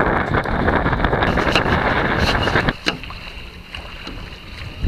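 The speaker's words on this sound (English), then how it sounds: "the wind meter says 10 at the moment, but it's certainly picked up from what it was a minute ago" Strong wind buffets the microphone while sailing a Rob Roy 23 sailboat, a loud continuous roar that eases partway through to a softer rush of air and water.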